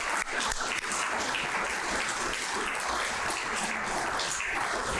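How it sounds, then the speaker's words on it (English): A dense, continuous round of applause fills a hall at an athletics hall of fame induction ceremony, steady and fairly loud from many hands with no breaks. "how about another round of applause for each of them?"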